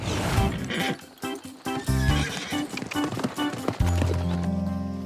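Horses clip-clop along with rhythmic hoofbeats, a whinny rising over the busy, loud mix of movement.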